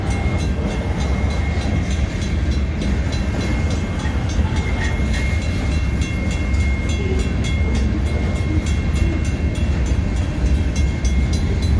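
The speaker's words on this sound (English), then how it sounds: "Nice train." A train rolls past close by, a loud continuous rumble and rattle of wheels on track with no break for the whole stretch.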